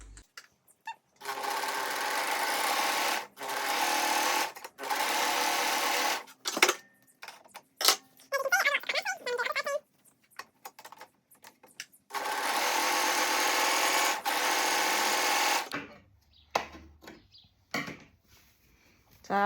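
Home sewing machine finishing the seams of a pair of shorts in several long runs of fast, even stitching, separated by short pauses, clicks and fabric handling.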